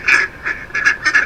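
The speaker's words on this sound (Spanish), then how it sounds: "Es un animalito que dice cuá" A duck quacks four times in quick succession, loud and close, with brief bright nasal calls spaced irregularly and nothing else heard.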